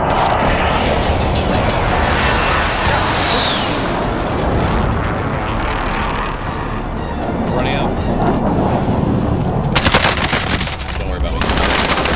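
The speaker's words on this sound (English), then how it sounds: "Friendly precision airstrike inbound." Precision airstrike explosions in a video game: a loud, continuous barrage of booming blasts and rapid gunfire that rolls on throughout, with a sharper burst near the end and game voices mixed in.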